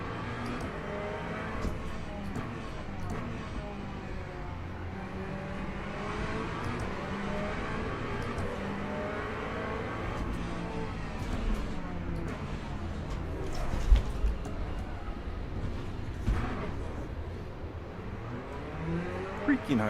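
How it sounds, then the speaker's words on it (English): Hypercar engines in the Le Mans Ultimate racing game at Circuit of the Americas roar steadily and rise and fall as cars accelerate, with brief louder surges near the end and occasional talk over the top. "Freaking hypercars."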